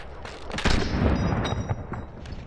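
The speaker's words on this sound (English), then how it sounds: "So I fire a rocket at him" A rocket launched at a squad of players in Fortnite gives a sudden heavy boom followed by a rumbling, crackling roar that trails off with scattered blasts, loud and close.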